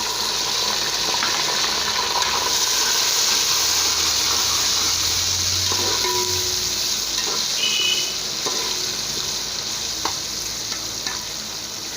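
Garlic-ginger paste sizzles steadily in a hot pan, a continuous bright frying hiss with occasional stirring clinks and spatters, close and alone without talk.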